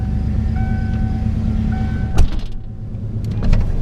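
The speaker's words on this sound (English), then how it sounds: "Windows go up and down." Power windows on an original low-mileage Fox-Body Mustang 5.0 going up and down, a steady whining motor hum over idling engine rumble, ending with a thunk as the glass seats, followed by short clicks; no talking.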